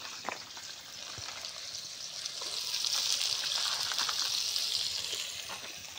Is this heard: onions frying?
yes